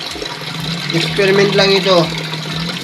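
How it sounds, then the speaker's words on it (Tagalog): Water pours from above into a crayfish tank, a steady splashing rush beneath someone talking close by. "Kaya yan yung tubig na babagsak yan. Kaya malakas."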